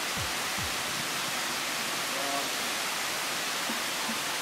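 A waterfall at Albion Falls rushes as a constant, even hiss of white water on a cold day, with no voices and no change over the few seconds.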